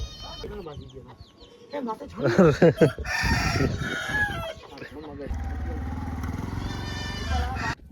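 A rooster crows loudly nearby, followed by clucking and flustered fowl calls, with a steady engine-like drone in the background.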